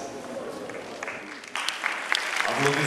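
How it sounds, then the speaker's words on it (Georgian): Audience applause at an international folklore festival in Batumi, a steady wash of clapping that builds and grows louder toward the end, with some voices mixed in. "აპლოდისმენტები"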